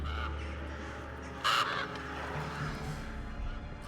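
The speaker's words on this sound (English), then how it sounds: "The crows are getting louder, right?" Crows caw in a dark, lonely setting inside a game, one sharp harsh call standing out clearly over a low constant background rumble, with fainter calls scattered around it and no talking.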